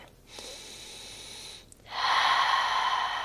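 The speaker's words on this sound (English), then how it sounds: "Take 1 breath." Close, audible breathing during a yoga flow: a short inhale, a pause, then a longer, louder exhale through the nose and mouth, with no talking.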